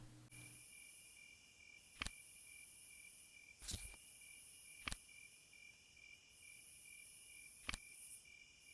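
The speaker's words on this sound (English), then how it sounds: "There are distant sounds of insects and frogs in this one, but the audio for them is fairly low." Faint, distant insects chirring and frogs calling in a calm nature ambience from the Papercut puzzle video game, with a steady high buzz broken by a few sharp clicks.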